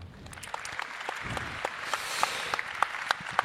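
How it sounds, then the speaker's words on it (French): An audience applauds the introduction of British author Naomi Alderman at a panel event, a fairly quiet, scattered clapping with a few sharper individual claps standing out near the end. "à ma gauche, nous avons Naomi Alderman, qu'on peut applaudir."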